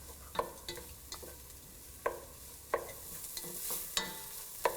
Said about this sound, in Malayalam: പച്ചമുളക്, കറിവേപ്പില എന്നിവയിട്ട് വഴറ്റുക.